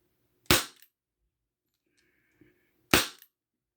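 A Win Gun 731 airsoft revolver fires two sharp, loud, close shots about two and a half seconds apart, with a faint click and a light mechanical sound between them in an otherwise quiet room.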